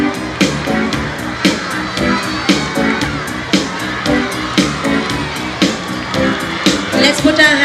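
Loud crowd cheering and children shouting during a relay race at a school sports meet, with rhythmic claps or bangs roughly every half second under the continuous roar; voices talk amid the noise.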